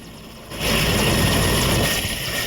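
A helicopter carrying polling staff to a polling station in Gumla's Naxal-affected area roars nearby, its engine and rotor noise swelling sharply after a quieter start, then holding loud and steady.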